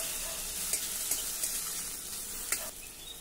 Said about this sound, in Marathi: सर्व साहित्य आता आपण जरा परतून घेऊ। हे बघा, कांदा लसूण टोमॅटो मिरची सर्व काही परतून झालं आहे।